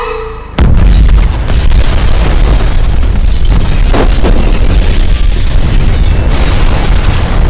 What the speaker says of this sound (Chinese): 爆炸的地雷还引爆了炸药，